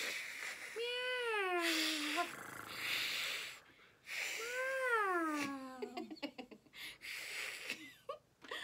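Children's voices imitate cat meows during a kids' animal-sounds game, two long, rising and falling meows in turn followed by shorter choppy mews and snorts, fairly close and clear.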